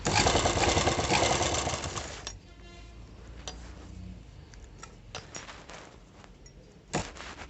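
An embroidered blouse is stitched on a sewing machine, whose loud close whirring run stops after about two seconds and gives way to sparse clicks and taps from the machine.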